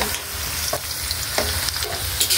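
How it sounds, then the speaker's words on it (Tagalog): Creamy soup stirred in a pot, a close bubbling sizzle with several scraping strokes of a ladle against the metal. "At haluin na po natin."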